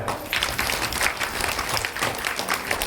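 An audience at a Ramayana religious gathering in Parli applauds with dense, steady clapping that sounds close and fills the whole short stretch.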